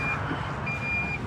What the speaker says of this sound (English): That sound is the panic alarm.